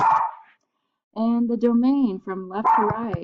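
A dog barks in the background during a home recording, with several sharp, fairly loud yelps and barks mixed in with a person speaking.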